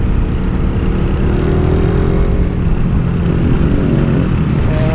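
A vehicle engine drones loud and steady at night while overtaking, with a continuous rumble that rises slowly in pitch and no talking.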